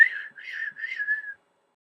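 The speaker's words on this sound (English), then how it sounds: "I heard his whistle." A single continuous human whistle, wavering up and down in pitch for over a second before stopping, clear against silence.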